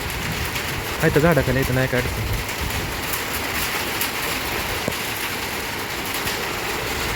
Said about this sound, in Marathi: आपल्या घरावरती पाऊस आहे.